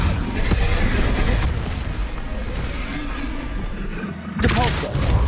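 A fiery Incendio spell from Hogwarts Legacy roars in a sustained, booming rush of flame, loud and near, easing slightly before a sharp fresh blast near the end.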